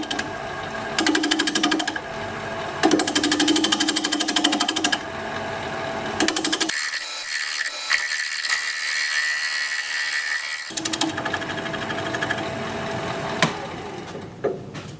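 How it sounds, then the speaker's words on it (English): Wood lathe at 750 RPM turning a bowl with a half-inch bowl gouge, a steady loud whirring scrape with rhythmic chatter that cuts out briefly mid-clip before the cutting resumes. "We're turning at 750 RPM, 1/2 inch bowl gouge"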